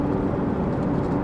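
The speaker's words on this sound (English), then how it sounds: "this car sounds like an airplane" A Honda Integra on a meaty, thick-sidewall tire setup drones steadily while driving, a loud, continuous low hum like an airplane filling the cabin with no speech.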